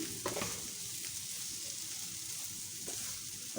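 Vegetables stir-frying with ginger, garlic and crushed chillies for Japanese-style noodles, a steady close sizzle with a few sharp stirring scrapes, no talk.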